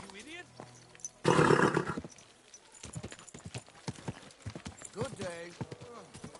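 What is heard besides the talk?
horse in video game Kingdom Come Deliverance 2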